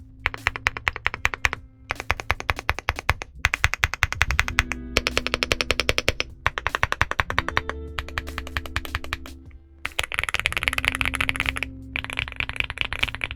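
A Leobog Hi8SE 75% aluminum mechanical keyboard is typed on in rapid, close bursts of crisp clacking keystrokes, with short pauses between runs and no talking.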